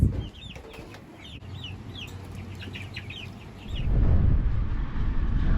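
Backyard chickens clucking near a newly set-up coop beside a barn on a windy homestead, several short repeated clucks close by over steady wind rumble that grows louder toward the end.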